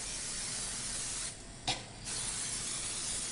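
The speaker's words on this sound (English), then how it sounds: "take your spray and we're going to lube this baby up a lot" Cooking spray misted generously into a cake pan for a rum cake, heard as a loud, close, continuous hiss that breaks off briefly in the middle with a small clunk before resuming.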